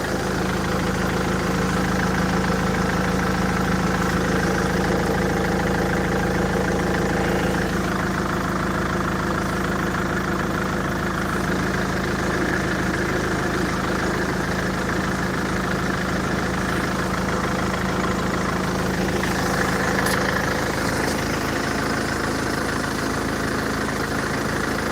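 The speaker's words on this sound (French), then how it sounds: "bruit moteur normal" A used Mercedes at a BMW auction idles with a steady, even engine hum, running continuously and close for about 25 seconds with no voices.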